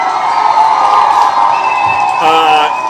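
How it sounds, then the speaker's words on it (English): A loud live crowd cheers and claps for a guest on stage, with whoops and raised voices ringing out over a steady wash of noise. "We're gonna give him a round of applause"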